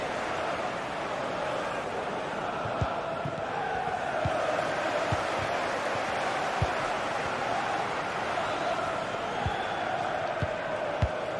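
Steady roar of a football stadium crowd from a video game match, a continuous wash of cheering and chanting that swells slightly midway, with faint sharp thumps scattered through and no clear speech.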